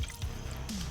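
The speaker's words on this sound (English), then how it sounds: "Water is still dripping and draining away." Water drips and drains off exterior car trim after rinsing, soft wet droplet taps over a steady background wash, close and brief.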